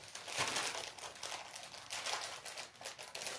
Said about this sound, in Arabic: خدي افتحي البيكنج باودر دوت